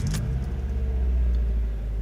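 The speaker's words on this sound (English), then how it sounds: "If we start the car" A Mazda MX-5 with an aftermarket steering wheel starts up, giving a brief crank followed by a steady low engine rumble that holds close and loud through the short stretch.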